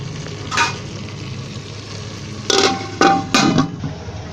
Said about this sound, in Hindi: ये देखिए, ये हल्की आंच पे आलू फ्राई हो रहे हैं।